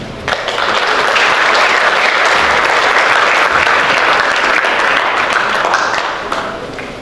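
An audience in a hall in Malang, gathered to commemorate Youth Pledge and Heroes' Day, gives loud, sustained applause after a speech, a dense wash of clapping lasting about six seconds before tapering off.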